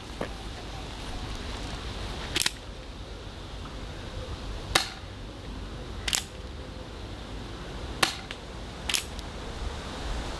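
A Tokyo Marui Colt SAA .45 Artillery airsoft revolver fires 0.12 g BBs through a chronograph: five sharp, separate cracking shots spaced a second or two apart over a quiet, steady background hiss.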